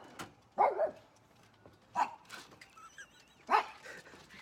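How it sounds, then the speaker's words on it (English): Dogs at a home bark outside in three short, spaced bursts, a few yips trailing after, fairly near and not loud, with no talk. "My dogs, they think they got to bark every time I go outside."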